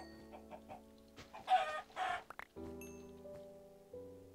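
Chickens cluck in a video game from the Yogbox modpack: a faint, scattered run of short clucks and squawks that pauses between calls, with no speech.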